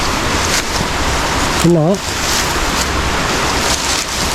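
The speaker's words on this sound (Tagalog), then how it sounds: "Ang lakas ng tubig dyan ano." Strong river current rushes loudly and steadily past a bamboo-lined bank, a constant broadband roar that fills the whole stretch while a voice speaks briefly over it.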